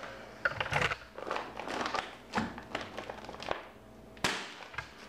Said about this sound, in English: Now my staple gun is an electric staple gun.